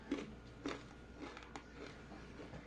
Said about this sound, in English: I'm sure you can hear that crunch.